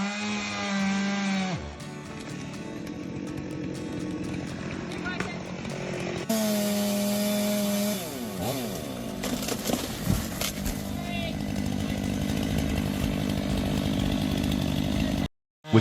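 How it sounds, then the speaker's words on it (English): A big logging chainsaw cuts through a massive pine trunk, its engine droning steadily, then revving higher and bogging as the chain bites, loud and close throughout before a sudden cutoff at the end. "The worker expertly maneuvers the chainsaw, ensuring a precise fall."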